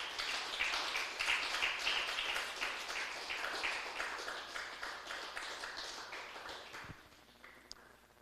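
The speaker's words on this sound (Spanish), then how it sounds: "Denle un aplauso fuerte al Señor" A Spanish-language church congregation gives sustained applause, dense and fairly distant. It keeps a steady level for several seconds, then thins out and fades near the end.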